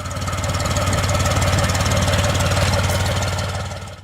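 Perkins diesel engine of a 1960s Massey Ferguson 135 tractor running steadily, a loud close rhythmic knocking chug that holds an even pace before easing slightly at the end.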